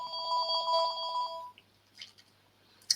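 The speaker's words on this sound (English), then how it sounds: "So there's a sound like a phone ringing" An electronic telephone ringtone plays as a sound effect in a Genially learning game, a steady trilling ring lasting about a second and a half before stopping, followed by faint clicks, with no talking over it.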